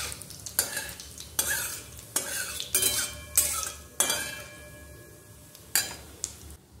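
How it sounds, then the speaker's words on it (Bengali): Whole cumin seeds and dried red chillies sizzle in hot oil in a wok, with a steady frying hiss broken by repeated clinks and scrapes of a spoon stirring against the metal. "এবার ফোড়নও দিয়ে দিলাম, গোটা জিরে, শুকনো লঙ্কা"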